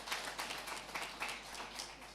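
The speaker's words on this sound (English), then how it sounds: "Round of applause for the women." Audience applause for resettled women farmers at a regional address, a faint, dense patter of many hands clapping at a steady level throughout.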